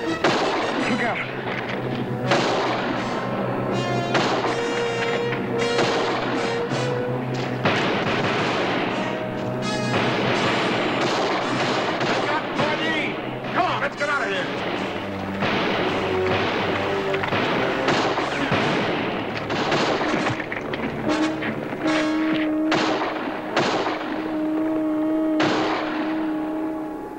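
Gunfire from a western TV episode cracks repeatedly in an irregular string of shots, set against a continuous dramatic background that runs throughout.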